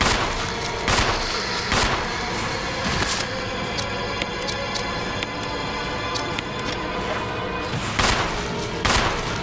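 Rapid gunfire bursts in the Resident Evil REmake game, loud, close and repeated in clustered volleys with short gaps, with no talking.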